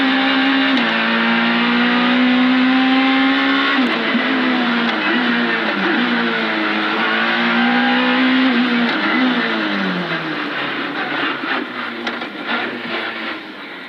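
A rally car with a sequential gearbox accelerates hard on a special stage at Rallyday 2016. The loud, close engine note climbs in pitch, drops sharply at each quick upshift, then fades slightly as the car pulls away.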